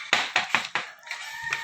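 Rooster crowing at close range, several loud bursts with clucking fowl around it in a farmyard.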